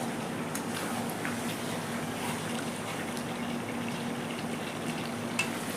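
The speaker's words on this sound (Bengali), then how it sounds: "দেখেন জলটা গরম হয়ে গেছে" Water heating in a cooking pot for chicken dum biryani, a steady close rumbling hiss of near-boiling liquid that holds even throughout, with no talking.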